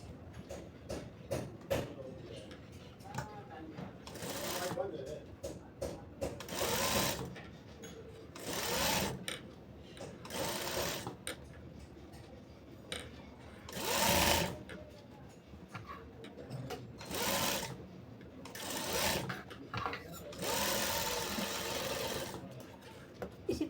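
A sewing machine stitches the neck piece of a one-piece frock in repeated short runs, loud bursts of rapid mechanical whirring separated by pauses with light handling sounds.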